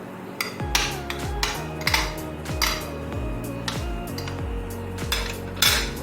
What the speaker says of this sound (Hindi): अच्छे से मिक्स करना है इसको, ताकि शुगर इसमें अच्छे से मिक्स हो जाए, बटर भी अच्छे से मिक्स हो जाए